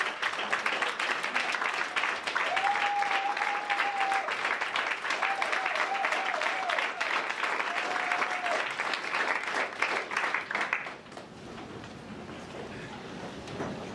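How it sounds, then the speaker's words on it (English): An audience at a national AIDS programme managers' meeting rises and claps in sustained, dense applause for about eleven seconds, with a voice speaking over it, before the clapping fades to room noise. "I think we can rise and give him a round of applause"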